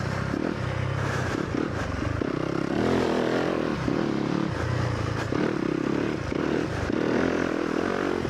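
Dirt bike engine revving hard while the rider carves through a berm, throttle rising and falling in repeated surges, loud and close with scraping and clatter from the ride.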